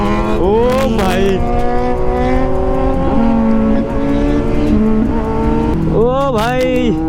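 A Kawasaki Z900 motorcycle revs hard for a wheelie, its engine note rising and falling in several loud swoops close by, with a steady roar underneath and voices talking over it.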